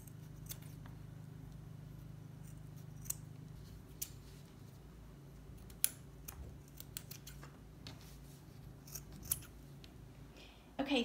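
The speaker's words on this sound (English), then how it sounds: "I am just going to cut off the little straps from the swimsuit top" Scissors snip the small straps off a swimsuit top for a no-sew face mask. The cuts are quiet, scattered and close over a low hum, and a short louder snip comes at the end.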